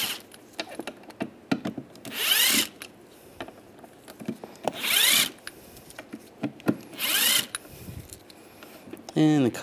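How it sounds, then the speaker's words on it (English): Phillips head screwdriver backing four screws out of the center console of a 2007-2013 Chevy Silverado, giving repeated short ratcheting, grinding bursts close by, separated by light clicks and handling noises. "take these four screws out using the Phillips head screwdriver"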